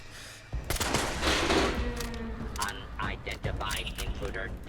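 Turret gunfire rattles in rapid bursts in Fallout 76, fairly close and sustained, with a voice talking over and after the shooting.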